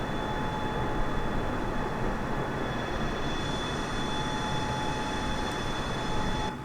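The engines of a Boeing 747 on a Virgin Atlantic flight from Frankfurt to Barcelona produce a steady, loud broadband roar with a faint whine on top, easing slightly near the end as the throttle is pulled back.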